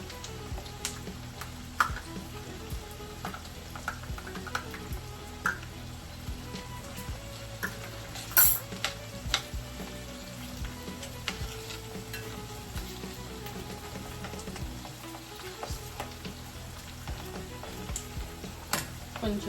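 Ginger garlic paste frying in a pan for methi chole pulao, a quiet continuous sizzle broken by frequent small ticks and utensil clinks, including one sharper clink midway, with no talking.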